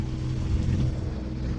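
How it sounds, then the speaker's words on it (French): A sailboat motoring under both sail and engine toward Porquerolles gives off a steady low engine drone with water noise, moderately loud and continuous, with no speech. "Alors on est voilé moteur parce que le vent n'est pas au rendez-vous."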